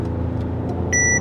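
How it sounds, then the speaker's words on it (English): A 2024 Mercedes GLE 53 AMG Coupe pulls hard on a busy freeway, its exhaust a steady, loud low rumble that swells slightly toward the end, with a thin high tone entering in the last moments. "I just wanna make my exhaust a little bit louder"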